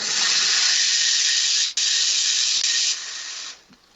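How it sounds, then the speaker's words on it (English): Loud, steady steam hiss like a steam train, close and continuous, with a brief break midway, then tapering down and fading out at the end. "Fucking steam train, man."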